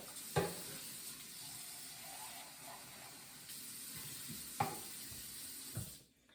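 Kale and spinach green juice draining from a juicer as a faint, steady watery trickle and hiss, with a few soft clicks and taps near the start and end, no voices.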